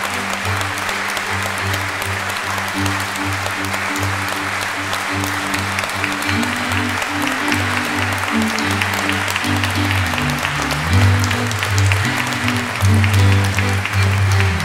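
Applause from a church audience at an ecumenical service and benefit concert, greeting a Ukrainian mothers' ensemble: continuous loud clapping with a low, steady tonal drone sustained beneath it throughout.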